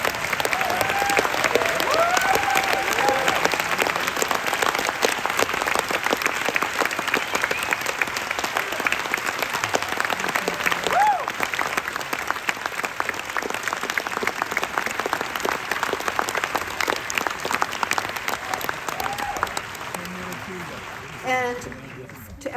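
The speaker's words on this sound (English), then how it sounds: "could all of the cast and crew in the audience here tonight stand so that we can applaud your heroic achievements?" A theater audience at a 70mm screening of The Abyss applauds the film's cast and crew in a long, sustained wave of clapping, with scattered cheers and crowd voices throughout, tapering off at the very end.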